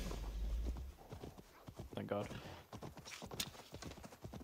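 Horse hooves clip-clop in a steady rhythm close by in the video game Assassin's Creed Valhalla, with a horse whinnying briefly midway and a person speaking a few words over it.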